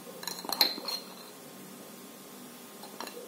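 Metal spoons clinking against a small pot while scooping ground turmeric, a quick cluster of bright taps early on and one more light clink near the end, quiet room otherwise.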